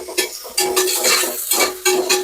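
Biryani being stirred in a metal cooking pot, a spoon scraping and clanking in repeated strokes over a faint sizzle, loud and close with no talking.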